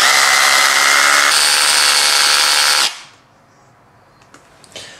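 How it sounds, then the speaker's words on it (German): A power drill bores holes into a wall, running loud and steady for about three seconds with a shift in pitch partway through, then stopping abruptly into near silence with a couple of faint clicks. "Und zwar müssen wir jetzt genau da Löcher reinbohren."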